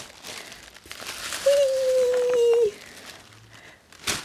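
Crinkly packaging rustles and crackles in short handling bursts, close and soft, interrupted by a brief tonal squeak.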